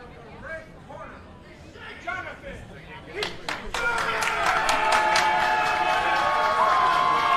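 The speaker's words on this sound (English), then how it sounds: "Crowd moving right now for Jonathan." At a Melee Fight League combat event, a crowd bursts into loud cheering and clapping after a few seconds of chatter and talk, then the roar holds steady and dense to the end.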